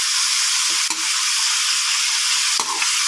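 Large pieces of pork fry in a hot pan, giving a loud, steady, close sizzle with a couple of brief stirring or shifting noises.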